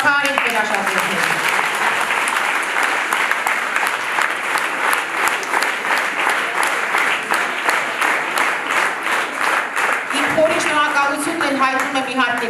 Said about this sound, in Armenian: Եկեք եւս մեկ անգամ ծափահարենք մեր աշակերտներին։